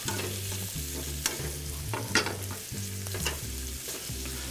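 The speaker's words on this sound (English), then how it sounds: "you can notice our halibut is beginning to start to bubble on the bottom" A potato-crusted halibut fillet frying in a pan with a little butter, salt and pepper, giving a close, steady sizzle with scattered bubbling crackles and a few sharper pops, no voices.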